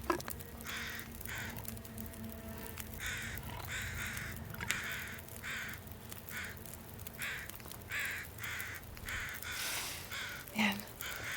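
Crows cawing in The Long Dark survival game, a steady series of harsh caws repeating in short bursts over a low wind-like ambience, fairly quiet and spread through the scene.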